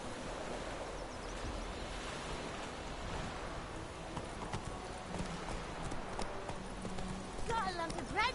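The horse Roach gallops in The Witcher 3: Wild Hunt, a quiet, rapid clip-clop of hooves blended with wind and ambient wash, with game sounds rising near the end.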